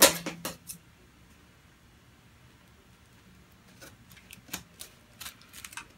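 Scissors snip through a round of parchment paper being trimmed for a cheesecake pan, a few sharp cuts near the start and more scattered crisp snips later, close and fairly quiet with no talk.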